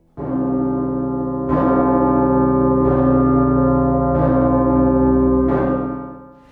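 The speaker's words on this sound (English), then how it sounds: "It only rings on declared national and major holidays with its low, long chime" A large church bell in Bucharest tolls four times in slow succession, each low, sustained chime swelling and lingering into the next, loud and close.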